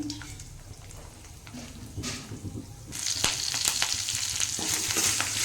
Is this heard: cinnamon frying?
yes